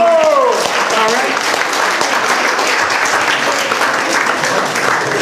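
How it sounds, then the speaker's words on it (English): Audience applause at an art opening reception, a dense, steady clapping from a crowd that lasts the whole stretch, loud and close, with a voice briefly audible at the start. "Let's give a round of applause for being a great mother."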